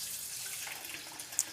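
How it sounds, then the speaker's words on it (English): Cold water from a kitchen tap runs steadily into a bowl, a soft continuous hiss with a small splash near the end, fairly quiet throughout. "I'm going to add some cold water to this"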